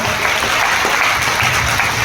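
An audience at a talk applauds with dense, steady clapping throughout. The applause is loud, continuous and even, with no clear voices above it.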